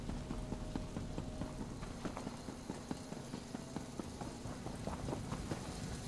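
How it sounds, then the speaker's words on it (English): Horse hooves clip-clopping in the video game Elder Scrolls Online, a faint, steady run of regular hoofbeats under a soft background bed. "I guess I could go show the horse quickly."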